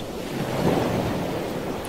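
Ocean waves at the seaside, a continuous low washing roar of surf mixed with wind, steady and fairly soft with no voices.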